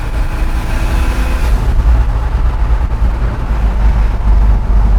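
A 1983 GMC Squarebody truck with a turbocharged six-cylinder engine runs loud and close, its exhaust giving a deep, rough, fluttering rumble that swells slightly and holds steady, with no talk.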